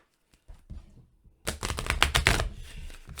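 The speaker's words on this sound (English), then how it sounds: "Let's shuffle again." Quick papery riffling bursts of cards being shuffled, a couple of light taps first, then a dense rapid flutter up close.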